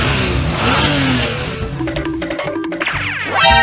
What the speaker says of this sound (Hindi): क्या यार आवाज आ रही है कार की यार